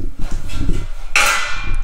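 A cover pops out of an electric stove with one sharp metallic snap and a short rattle, heard close up over a low rumble of handling.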